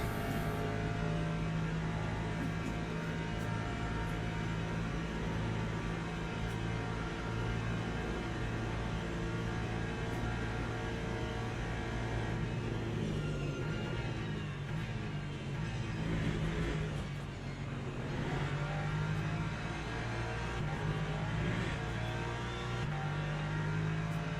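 Hypercar engines in the Le Mans Ultimate racing game drone steadily through an online race at Le Mans, a continuous moderate roar that swells slightly as cars accelerate, with no talking.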